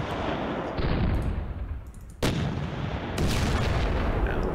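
Gunfire and artillery from the wargame Panzer Battles Kursk, a dense, continuous rumble of distant fire with sharp louder bursts partway through, heard alone without talk.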